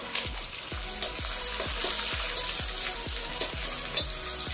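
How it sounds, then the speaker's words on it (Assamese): Onions sizzle loudly in hot oil in a kadai, with a spatula scraping and knocking against the pan in a quick, steady rhythm, close up and without talk. "এতিয়া তেল ভালকৈ গৰম হৈ গ'ল পিঁয়াজখিনি দি দিছোঁ"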